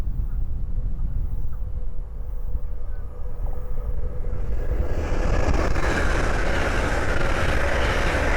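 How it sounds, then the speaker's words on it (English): Hull Trains Class 800 from Glasgow Central to London King's Cross passing on the East Coast Main Line at Great Wymondley, a low rumble building into a loud broadband roar close by, with no talk. "the next train to pass by is a Hull Train 800 from Glasgow Central to London King's Cross"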